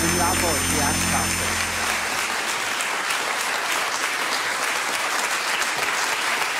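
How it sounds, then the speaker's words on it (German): A studio audience at a television talk show claps energetically, a thick, even wash of applause that starts under a brief tonal sound and then carries on alone at a steady volume. "Mit Leidenschaft wird da innen schon geklatscht"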